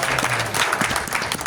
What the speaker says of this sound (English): Applause for the City Council.